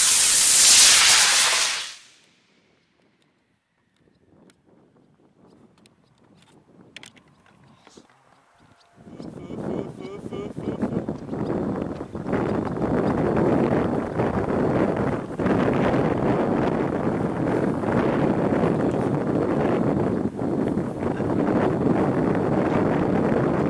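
A mini model rocket motor ignites with a sharp loud burst, followed by a near-silent pause, then sustained broadband roaring noise with wind buffeting on the microphone that continues steadily to the end.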